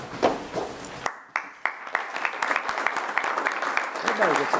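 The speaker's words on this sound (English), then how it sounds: "Everybody gets applause tonight." An audience at a tribal council meeting applauds a speaker. Talk and a few claps come first, then a brief hush, then scattered claps swell into steady clapping from the crowd that continues to the end.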